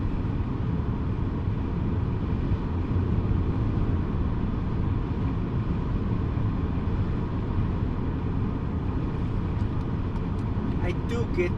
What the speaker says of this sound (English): I do get some wind noise from the pillars right here.